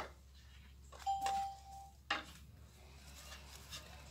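A pet memory trainer treat dispenser gives a single clear electronic chime when its button is pressed, followed by a sharp mechanical click, quiet overall against a faint room hum.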